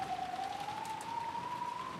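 Pouring rain in the visual novel Umineko, a steady soft hiss of heavy rainfall with a faint tonal whine running through it, quiet and continuous.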